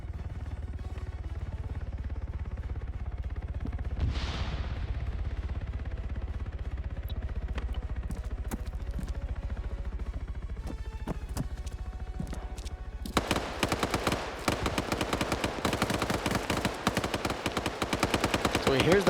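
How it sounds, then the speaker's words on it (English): Video game gunfire erupts as rapid bursts of shots, clattering loudly and continuously in the second half after a quieter stretch of rumbling background. "Here's that gunfire above him."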